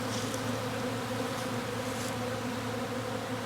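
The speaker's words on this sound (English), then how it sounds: "And we've got a bunch of bees." A steady, dense drone of many honeybees buzzing close up in an opened top bar hive during a fall inspection, unbroken and even for the whole stretch.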